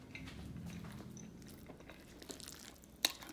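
Someone eats a twice baked potato loaded with shrimp, ribeye steak and sour cream, with soft close chewing and mouth sounds and one sharp clink of a utensil near the end.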